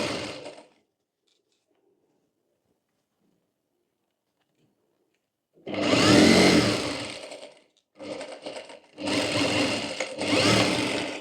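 Sewing machine stitching two collar parts together for a coat-collar co-ord set, heard as loud close bursts of motor whir after a long silence.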